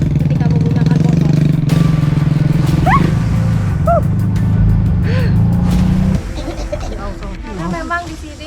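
Motorcycle engine droning steadily along a rural village road, loud and close for most of the ride and then dropping lower, with dogs yipping and barking nearby and voices talking over the engine.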